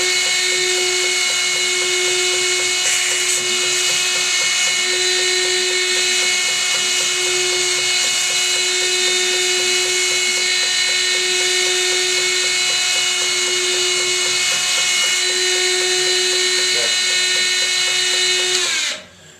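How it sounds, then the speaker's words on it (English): A sanding drum chamfers a steel pocket skinner knife part with a continuous high whine and steady grinding hiss, loud and close, running nearly unbroken before cutting off at the end. "I finally figured out the best way to rotate the part around the sanding drum, so I'm going to knock it out"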